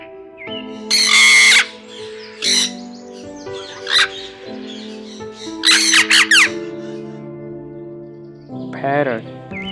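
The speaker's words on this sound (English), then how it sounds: "Parrot." A parrot squawks in a few loud, harsh bursts separated by pauses, with background music underneath.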